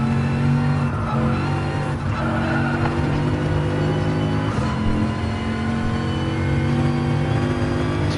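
A race car in a video game, an F1 car on a straightaway, holds a loud, sustained engine drone with steady tonal pitch and brief tire-squeal or skidding accents, no speech over it.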